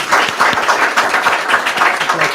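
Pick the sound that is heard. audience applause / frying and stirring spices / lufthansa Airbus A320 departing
audience applause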